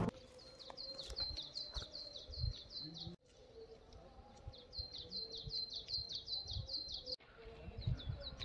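Small birds chirp in quick repeated high twitters at an outdoor art workshop in Kashmir, fairly faint against steady rustling ambient noise and a low hum.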